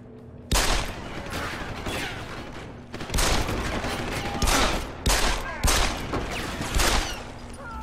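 In a Deus Ex: Human Revolution boss fight, several loud bursts of sustained automatic gunfire rip through in close succession, with brief gaps between volleys and a faint background tone.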